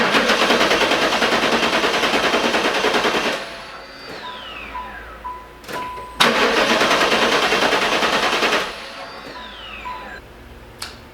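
A Pontiac Firebird Trans Am engine cranks and fires in two loud rapid bursts separated by quieter pauses with rattling and clicks, running only briefly each time.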